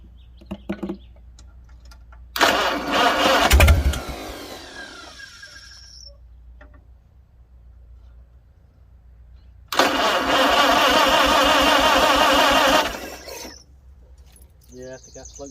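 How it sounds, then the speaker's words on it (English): A Farmall 300 tractor with a freshly rebuilt carburetor cranks and fires into a loud running roar, then cuts out. After a pause it starts again and runs a few seconds before dying once more. "I'm gonna try to fire it off real fast"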